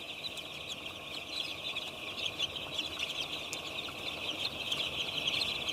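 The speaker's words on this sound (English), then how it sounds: "The chicks quickly begin exploring the barn." Broiler chicks chirp steadily in a barn, a dense, continuous flock twittering that stays fairly loud throughout over a low, constant background hum, with no talking.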